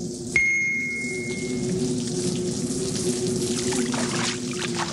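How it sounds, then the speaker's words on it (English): Water trickling and gurgling steadily along a gutter, a continuous burbling flow with a brief ding near the start. "Water was running along the gutter, gurgling and burbling as it ran."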